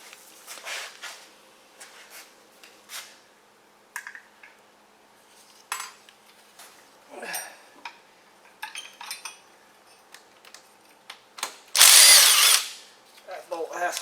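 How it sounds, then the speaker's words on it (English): A power tool working on a bolt on a Cummins diesel engine, heard as short bursts of whirring and ratcheting amid metallic clinks and tool handling, ending in one louder, longer burst. "That bolt has to come out."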